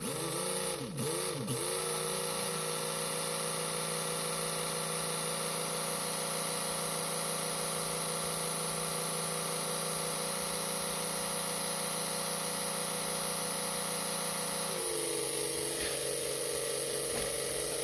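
Mega G+ 1.7 slot car motor running steadily on a dyno with a pickup shoe problem: a continuous, fairly loud mechanical whine and buzz that holds even for over ten seconds, then shifts pitch slightly near the end.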